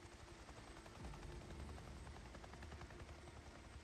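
Helicopter rotor chop in the video game Days Gone, a steady loud thrumming beat that holds throughout with some low rumbling, no talk over it.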